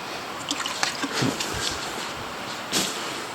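A piece of sandpaper is swished through water, producing soft sloshes and light dribbling splashes at close range.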